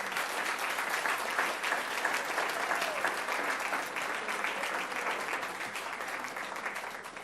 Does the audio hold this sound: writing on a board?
no